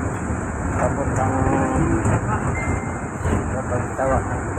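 Dense, continuous roar of a street in Manila near the Balintawak area beneath an elevated LRT light rail line as a train passes overhead, mixed with the rumble of road traffic, with a steady high whine throughout and people talking in the background.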